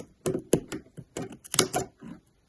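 Fabric at the base of a weekender bag is snipped with scissors, giving a run of close, crisp clicking cuts in an irregular rhythm with brief pauses between them.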